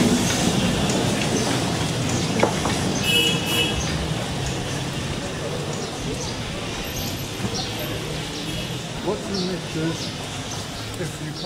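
A Darjeeling Himalayan Railway train rumbles steadily through the yard entrance points near Darjeeling, India, with a continuous wheel roar and faint clicks and a brief squeal over the points, under some talking.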